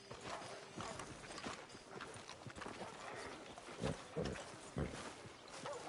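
Horse hooves clip-clop along a street in a PS4 video game, a brisk irregular walking rhythm of fairly quiet thuds, ending at a hitching post.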